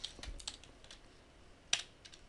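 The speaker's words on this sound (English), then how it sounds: "Now I'm tired of typing the whole word summary" Sparse keystrokes on a computer keyboard during statistics work in R, a handful of soft taps with one sharper key press near the end, fairly quiet with no talking.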